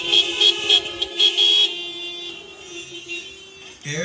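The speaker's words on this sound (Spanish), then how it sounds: "Aquí los amenes son con bocina, ¿verdad?" Several car horns honk in short repeated toots and a longer blast as amens at an outdoor drive-in church service, loud and overlapping, followed by a sustained horn tone fading under a brief voice.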